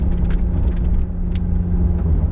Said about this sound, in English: You can hear every single piece of gravel, absolutely everything going on.